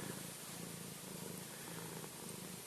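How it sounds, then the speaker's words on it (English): A cat purring steadily up close, a soft continuous rumbling drone with gentle rhythmic pulses, faint and alone. "The purring has begun."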